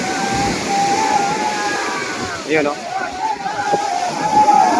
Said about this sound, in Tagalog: Naglalakihan naman talaga ang mga alon